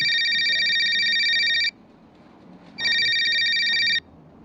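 A telephone rings with two long, loud electronic trilling bursts, each lasting over a second, separated by a brief quiet gap.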